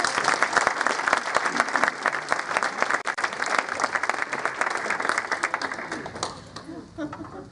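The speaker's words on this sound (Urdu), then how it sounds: "نسیم بھائی کے لیے تالیاں" An audience at an Urdu mushaira applauds a poet with sustained, dense clapping that carries on for several seconds before thinning out near the end.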